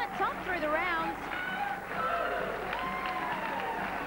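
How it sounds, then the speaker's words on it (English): Spectators at a 1998 under-21 national netball championship between South Australia and New South Wales applaud and cheer in an indoor venue, a steady clapping wash under a commentator's voice and distant whoops. "The crowd giving them a round of applause, which is fitting."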